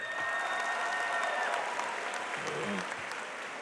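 Audience applause fills a high school graduation ceremony, steady and dense throughout with a faint voice briefly audible underneath near the end.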